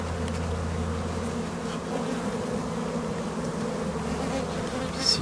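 Honey bees buzzing steadily inside an opened nucleus hive, a dense continuous hum close by with no break and no voices.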